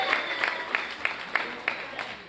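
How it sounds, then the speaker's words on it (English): A small audience applauds itself at the close of a live Zimbabwean fashion session, with a handful of sharp, spaced claps rising above gentle background clapping and low room murmur, quiet and somewhat distant. "Most importantly, give yourselves a round of applause."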